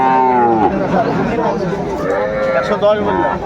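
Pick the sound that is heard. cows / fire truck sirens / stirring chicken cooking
cows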